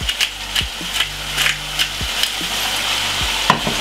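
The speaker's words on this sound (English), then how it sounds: "We're gonna give it a lovely stir." Callaloo being stirred in a pan for a Jamaican breakfast fry-up, with a utensil scraping and knocking against the pan in repeated strokes over a steady sizzle.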